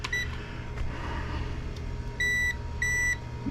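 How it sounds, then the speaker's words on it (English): A Noritz N-0751M-DV instant hot water heater gives a short electronic beep near the start, then two longer steady tones in close succession, over a low mechanical hum. "Yeah, you're beeping at me."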